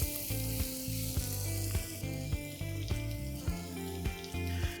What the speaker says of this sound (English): I'm going to add in some onion and cook it till it gets translucent.